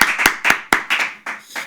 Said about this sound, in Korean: 간 걸 믿는 분들만 하나님께 영광의 박수 드리겠습니다.